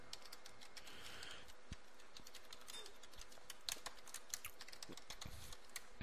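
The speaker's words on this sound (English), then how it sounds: "Don't mind me, just typing," Quiet, rapid clicking of keys on a computer keyboard, an irregular stream of light taps close by with no talking.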